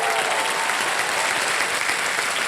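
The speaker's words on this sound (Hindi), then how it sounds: "ताली बच जाए इनके लिए।" Studio audience at a televised quiz show (KBC season 15) breaking into steady, dense applause, loud and sustained with no voices on top.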